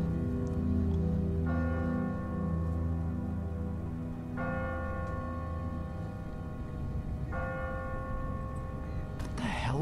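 A church bell in a tower in The Walking Dead game tolls three times at slow, even intervals, each strike ringing on over a low rumbling background.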